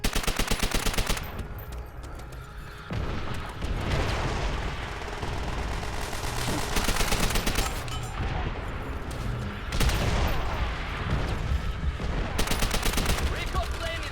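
Rapid, dense gunfire from the World War II shooter Call of Duty: WW2, including submachine gun bursts, rattles almost continuously with loud blasts, with talking over it.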